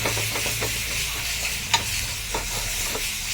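A spiced potato mixture with salt and turmeric is stirred in a pan, a steady close scraping and mixing over a soft background sizzle with a few small clinks, no voices.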